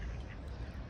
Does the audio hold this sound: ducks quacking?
yes